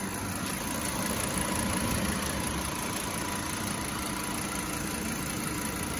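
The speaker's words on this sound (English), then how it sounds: "And there's a tapping. I don't know if it's a timing, the tension in your belt or something." BMW 330i engine idling with a steady, moderately quiet hum and a faint rapid tapping mixed into the running sound, with no talk.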